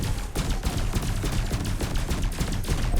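Ship cannons fire in a spaceship video game as a loud, dense stream of rapid bursts that continues without pause for several seconds, and nobody speaks.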